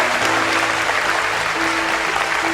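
A congregation claps in church, a continuous crowded patter of hands at moderate loudness, accompanied by soft sustained keyboard-like notes beneath the applause.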